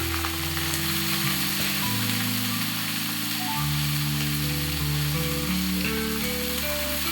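Raw bananas and vegetables fry in a pan with a steady, loud sizzle that fills the whole stretch, with faint mechanical clicks and tonal noise running underneath.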